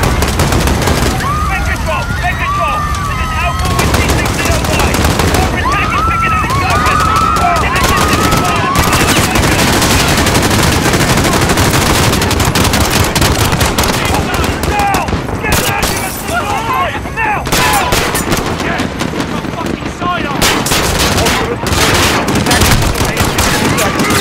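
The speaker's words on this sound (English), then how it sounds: "They're firing on the middle!" Dense, nearly continuous automatic gunfire and bursts from the Call of Duty: Modern Warfare (2019) campaign fill the scene, loud and close, with battlefield commotion and shouted voices mixed in.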